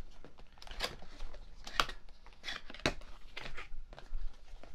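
Imou Cell 2 surveillance camera being unboxed, close crinkly rustling of cardboard and packaging with several sharp snaps and scrapes, fairly quiet and irregular.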